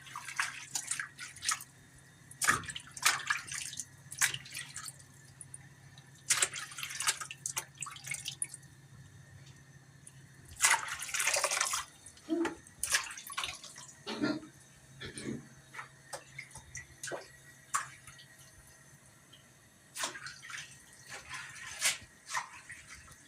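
Wild goosefoot greens being rinsed in water, with scattered splashes and drips sounding close, irregular and fairly quiet, with brief louder bursts of running water.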